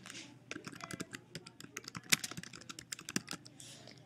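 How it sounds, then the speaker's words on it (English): Rapid keystrokes on a computer keyboard form a quick, irregular run of sharp clicks, close and fairly quiet, with no talking. "Begin typing."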